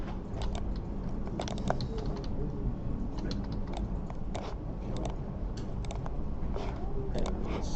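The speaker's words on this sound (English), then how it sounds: "Keyboard." Typing on a computer keyboard, with steady irregular key clicks and occasional sharper taps throughout. The keystrokes are close and clear over a low background hum.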